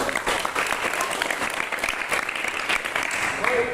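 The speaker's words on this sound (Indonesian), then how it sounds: "Tepuk tangan untuk semua" A class of students applauds steadily for a few seconds during a school physical education lesson, a dense, even wash of many hands clapping at once.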